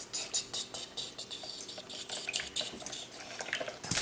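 Slime mixture with borax stirred in a container, giving a steady run of close, wet scraping and light clinking for the whole stretch, with no voices.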